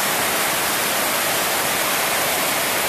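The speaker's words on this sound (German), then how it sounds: "Da ist doch ein Regen" Heavy tropical rain in Guiuan pours down as a dense, continuous hiss, close and loud, with no talking.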